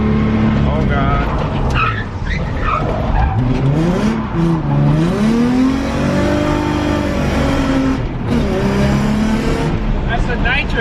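A race car running on nitrous accelerates hard and loud with a rising, sweeping engine whine and tire noise, while people talk and shout over it.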